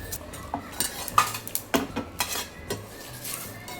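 Whole spices are dry-roasted in a hot pan and stirred, with a series of sharp metallic scrapes and clinks of a spoon against the pan over a faint background sizzle.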